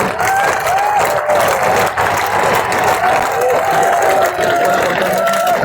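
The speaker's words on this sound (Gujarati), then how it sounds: "જોરદાર તાળીઓ પડો" Sustained audience applause and clapping at a political rally in Gujarat, a dense continuous roar of hands with crowd noise, loud and steady throughout, with a faint voice over it.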